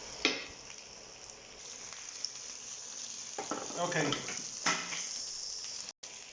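Red peppers hit hot olive oil in a pan with a bright, hissing sizzle that flares on contact, followed by a few scrapes and stirs; close, moderately loud, no talking.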